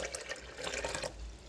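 A cup of water is poured while a cambuci mousse is being made in a home kitchen, a soft continuous trickle and splash running throughout, fairly quiet with no talking.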